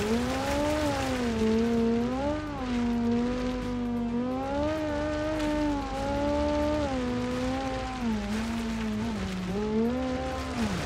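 A turbocharged rally car in the BeamNG driving game revs hard and steadily, its engine note rising and dipping through gear changes while sliding, loud and continuous with no talk over it.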